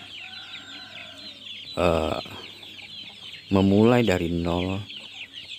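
Village chickens kept by a small farmer cluck in short bursts of low, throaty calls, up close over a constant buzzing backdrop, while a person talks briefly in between.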